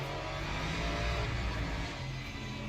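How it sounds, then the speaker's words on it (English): An Aston Martin Valkyrie V12 engine in a racing video game drones on steadily at a moderate, slightly distant level, with a constant engine tone and no voices. "Now we have an Aston Martin Valkyrie. Prepare for some V12 glory."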